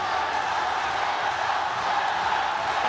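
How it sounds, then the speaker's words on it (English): A large arena crowd at an MMA bantamweight bout roars in a steady, continuous wash of cheering, loud and unbroken throughout. "crowd's bringing him home"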